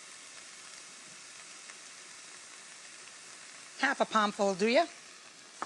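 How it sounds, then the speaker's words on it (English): Steady sizzle of frying in chorizo drippings in a pan, a soft continuous hiss with light stirring, and a voice speaking briefly over it near the end. "Give that a stir in the drippings from the chorizo."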